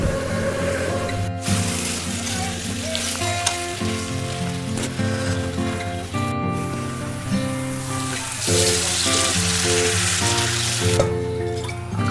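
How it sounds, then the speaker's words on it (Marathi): Ridge gourd curry with chutney cooks in oil over a wood-fired chulha, a steady sizzling crackle close by with a low tonal hum running underneath throughout. "हा दोडका आपला शिजतो आहे सुरीवरचा दोडका"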